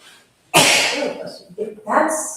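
A single sharp human sneeze bursts out loudly after a brief quiet, during an in-person session in Austin, followed by short breathy vocal sounds and a few murmured words.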